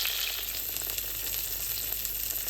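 Steady, close sizzling and crackling of duck breast frying skin-side in its own fat in a pan, continuous hiss with small pops throughout, no voices.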